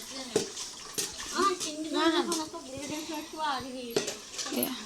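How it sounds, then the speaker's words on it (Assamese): Dishes being washed under running water, with a steady splashing stream and occasional clinks of utensils, while a voice and other voices talk over it close by. "খাই বৈ লৈ বাচন চাচন ধোৱা পৰ্ব চলি আছে"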